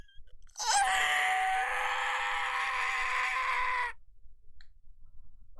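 A loud, sustained scream from the video game Chaos;Child, rising sharply then holding steady for about three seconds before cutting off, heard alone with no talk.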